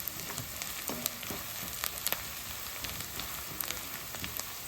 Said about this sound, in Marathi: मी असं कांदा फोडणीत टाकल्यानंतर कांदा थोडा गुलाबी झाला की सांडगे टाकते म्हणजे छान तेलावर परतले जातात